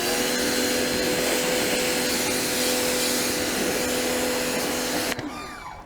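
Muc-Off bike pressure washer spraying at higher pressure, a loud steady broadband hiss with motor hum that runs continuously up close, then cuts off abruptly near the end.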